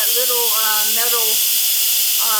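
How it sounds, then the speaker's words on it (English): Steam hisses loudly and steadily from the valve of a pressure cooker during release, a constant broad rush lasting throughout, with faint warbling tones riding on top. "when it's done releasing all its steam"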